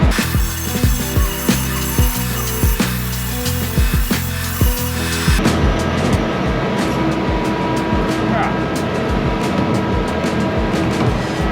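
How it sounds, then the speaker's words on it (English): An angle grinder grinding down weld tacks on steel plate for a 3G open-root stick weld. The grinding is loud, harsh and continuous, close up, and its texture shifts sharply partway through. "let's get in here and grind these tacks"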